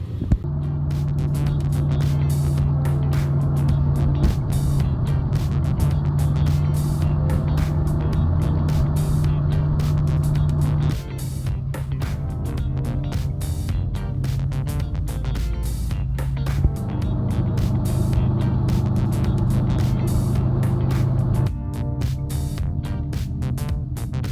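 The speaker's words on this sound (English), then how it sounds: "I'm gonna start driving" A car drives on the road with a steady engine drone and road noise throughout. Tone shifts briefly with gear changes.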